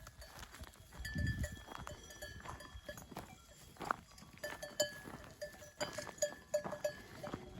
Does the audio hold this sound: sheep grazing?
yes